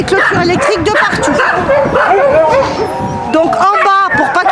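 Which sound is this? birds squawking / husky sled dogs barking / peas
husky sled dogs barking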